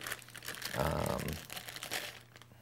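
Thin plastic wrap held with a bit of tape is torn and crinkled open on the box of an Otterbox Defender case for a BlackBerry Curve, with short close crackles and a louder tearing burst in the middle.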